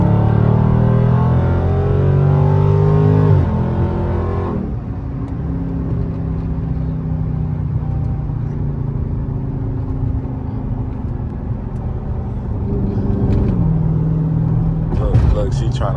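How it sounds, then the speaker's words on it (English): A Jeep races alongside on a road in Mexico, its engine rumble and tire roar mixing with steady road noise from a moving car, with a louder surge near the end while people talk over it. "Look at the Jeep trying to race us."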